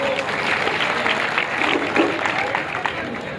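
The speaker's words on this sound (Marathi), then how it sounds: "चिमुकल्याला प्रतिसाद द्या टाळ्या वाजून" A crowd at a village wrestling match claps steadily and loudly throughout, a dense continuous applause with no pauses.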